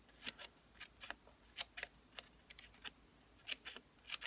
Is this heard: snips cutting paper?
yes